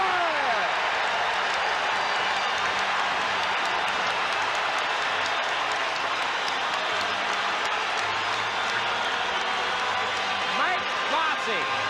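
A deliriously happy hockey crowd roars continuously at Nassau Coliseum after an Islanders goal in the 1983 Wales Conference Final against the Bruins, a dense, sustained cheer with a commentator talking over it.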